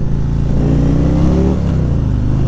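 A 2018 Harley-Davidson Street Glide engine rumbles loud and close, a steady deep, lumpy throb that rises slightly in pitch midway before settling back.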